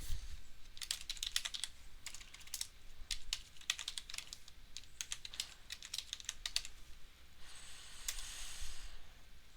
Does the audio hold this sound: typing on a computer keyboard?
yes